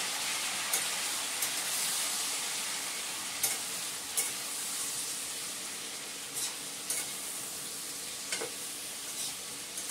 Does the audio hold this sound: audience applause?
no